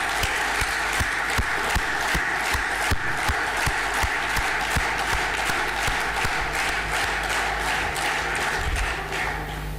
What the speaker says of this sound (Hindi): नेक्सफ परिवार के उन सभी सदस्यों के लिए जोरदार तालियां